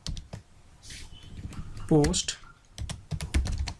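Brisk computer keyboard typing while code is entered, quick clicks running under a man's speech, with a few louder keystroke bursts.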